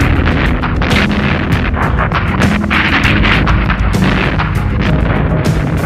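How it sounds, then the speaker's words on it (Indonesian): Cannon and artillery fire from sea and land bombard the city of Surabaya in the 1945 war, a loud, dense barrage of repeated booms and crackling blasts with no pause between them. "Berbagai bagian kota Surabaya dibombardir dan ditembak dengan meriam dari"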